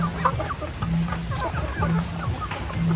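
Chickens being raised on a farm in the provinces near General Santos City cluck repeatedly at close range, short bursts and soft calls overlapping in a loose, busy rhythm over a low background murmur.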